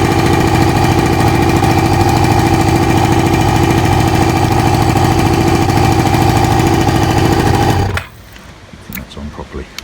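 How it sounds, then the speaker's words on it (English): A Kawasaki ZL600 Eliminator motorcycle engine runs close by with a steady, loud, rapidly pulsing drone, then shuts off abruptly near the end, leaving faint clicks and handling noise. "Might have to turn the bike on."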